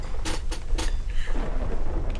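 Thunder from a storm at sea in the game Sea of Thieves: sharp cracks followed by a low rolling rumble, loud and close over steady noise of rain and wind, with no talk.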